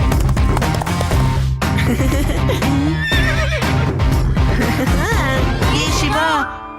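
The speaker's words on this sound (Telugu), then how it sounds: "అదిగో శివ చూడు, గుర్రం మీద స్వారీ చేస్తున్నాడు." A horse being ridden whinnies loudly several times near the end, over a continuous loud bed of music and background sound; hoofbeats are not clearly separable.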